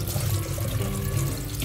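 Cold tap water runs steadily over drained elbow macaroni in a metal strainer at a kitchen sink, a continuous close splashing rush with no talk.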